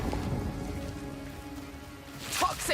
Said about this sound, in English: Toxic rain!